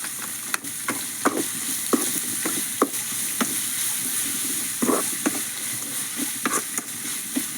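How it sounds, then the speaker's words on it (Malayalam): Soybean chunks are stir-fried in a pan until browned, giving a steady close sizzle broken by repeated scraping and stirring knocks from a spatula, with no one speaking. "ബ്രൗൺ കളർ കളറാവുന്നിടം വരെ വയറ്റാം"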